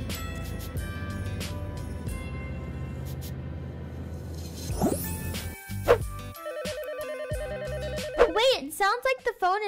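A telephone rings in sharp repeated bursts in the Roblox game Bloxburg, among synthetic game-style sounds and tones, with chirpy electronic effects near the end.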